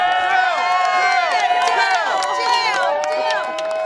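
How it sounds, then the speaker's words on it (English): A street crowd cheers and shouts as Jill Biden walks past, lively excited voices and whoops overlapping close by in a continuous noisy swell. "Let's all cheer for Dr. Biden when she walks off over the street."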